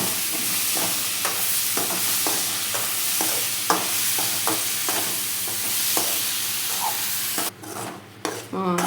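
Three tomatoes sautéing in a pan for pirandai thuvaiyal, a close steady sizzle punctuated by regular spoon scrapes and clicks, then a brief quieter stretch near the end, with no voices.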